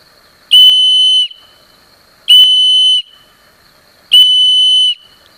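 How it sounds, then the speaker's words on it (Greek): Three loud, sharp blasts from a Victorinox survival whistle sound as an SOS signal, each held shrill tone lasting under a second and separated by short, even pauses. "τα 3 σφυρίγματα σημαίνουν «Χρειάζομαι βοήθεια»"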